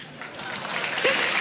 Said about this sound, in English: Another applause for Alex Ich and Gambit, guys.